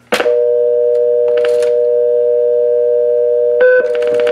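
Rotary dial telephone fitted with a pulse-to-DTMF converter redialing a stored number: a sustained dual-pitch tone holds steady throughout, broken by short bursts of clicking and a brief higher beep near the end.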